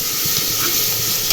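Onion, green chilli and ginger garlic paste frying in a pan, a steady close hiss and sizzle with faint stirring, heard alone for a brief moment.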